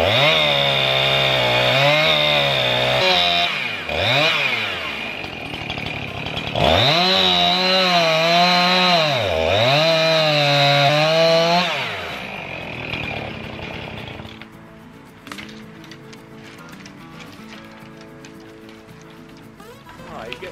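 Chainsaw felling trees while clearing land on a homestead, the engine revving up and dropping back in loud, repeated surges before it idles down and fades, with a voice talking over it.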